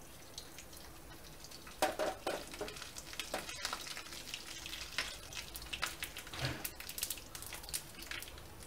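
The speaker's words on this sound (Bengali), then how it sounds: "তেলে ধোঁয়া উঠে গেছে, এরপর আমি এর মধ্যে সর্ষে আর শাহি জিরেটা দিয়ে দিচ্ছি।" Mustard seeds and shahi jeera are dropped into smoking oil and crackle with quick popping sizzles and a few sharper bursts, close but fairly quiet, with no talking.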